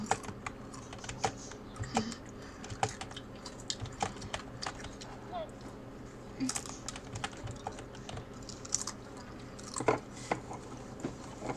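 Rapid, irregular clicking of computer keyboard keys while playing Cuphead, tapped in bursts throughout, close and moderately quiet, with faint murmuring in the background.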